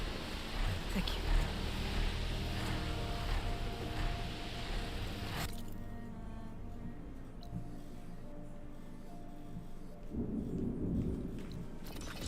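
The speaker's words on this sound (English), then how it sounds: "Oh, it's trying to rain." Rain and thunder in the video game Horizon Forbidden West: a dense rain hiss with low rumbling thunder, which cuts back abruptly partway through, leaving quieter rain and a softer rumble.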